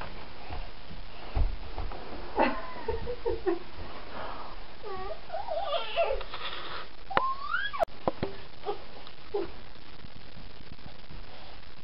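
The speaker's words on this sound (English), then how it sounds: "That's a kitty" A cat indoors gives a string of faint, drawn-out meows and chirps in the middle of the stretch, with quiet background noise and a sharp click near the end.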